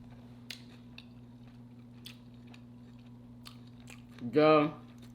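Homemade meat lovers pizza with hot honey drizzle and pickled red onions being chewed close up, soft wet bites and small crunches, with a short voiced murmur near the end.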